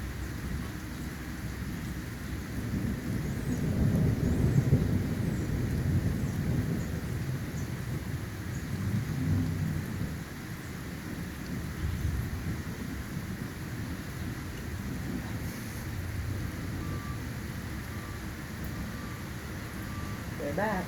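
Thunderstorm in Mays, Indiana: a steady wash of rain with deep thunder swelling and fading in low rolls, loudest early on, then settling back to the even hiss of rainfall.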